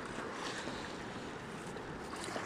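Fast-flowing Péribonka river at high volume during spring snowmelt in April, a continuous, full rushing wash of water with no voices.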